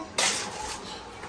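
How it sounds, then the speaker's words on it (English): Potatoes being stirred in a pot for a soul food Thanksgiving dinner: a sudden scraping clatter of utensil against metal, then a steady rough shuffling and rubbing that continues close and fairly loud to the end, with no talking. "So you're gonna go ahead and just stir all your potatoes."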